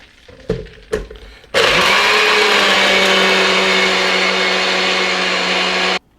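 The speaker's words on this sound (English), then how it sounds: "And now we just blend it." A blender whirs loudly and steadily for about four and a half seconds while mixing a Christmas cocktail, preceded by a few sharp clicks and knocks as the lid is fitted; the motor cuts off abruptly at the end.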